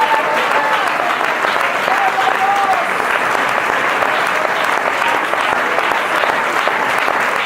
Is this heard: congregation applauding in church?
yes